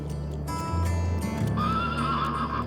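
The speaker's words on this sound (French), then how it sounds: "Des chevaux sauvages." Wild horses in the Namibian desert neigh loudly and close by, one long whinny following another, with soft hoof clops underneath and no talking.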